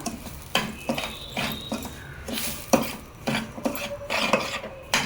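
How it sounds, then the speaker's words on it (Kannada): Dry semolina (rava) roasts in a pan for rava idli while a spoon stirs it, producing repeated rhythmic scraping and gritty rustling strokes with light metal clinks, close and fairly quiet, with no talk. "ಇದನ್ನು ಒಂದು ಜಸ್ಟ್ ಒಂದು ಐದು ನಿಮಿಷ ಫ್ರೈ ಮಾಡಿಕೊಂಡ್ರೆ ಸಾಕು ರವೆನ"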